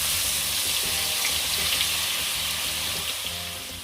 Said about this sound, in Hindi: अब मैं इसमें 1 tablespoon ginger garlic paste add करके इसको थोड़ा सा कुक करूँगी।